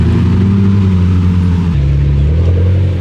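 Orange Lamborghini Performante at a hill climb, its engine revving loud and close with a deep roar that climbs, then drops as it shifts, continuing strongly throughout.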